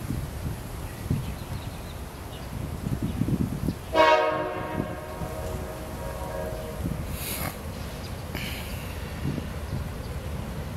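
A CSX freight train rolling past, its horn blaring in one loud sustained blast near the middle, with shorter horn bursts later over a steady rumble of wheels on track.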